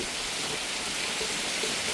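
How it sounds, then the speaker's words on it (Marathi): Steady, dense hiss of heavy rain falling continuously in Umarga, broadband and even throughout, with no voices. "किती मस्त पाऊस पडतोय पहा"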